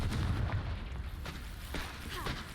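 In the video game Hogwarts Legacy, the Confringo spell produces muffled booms and bursts, with a heavy low thump at the start followed by several fainter pops scattered across the moment at moderate distance.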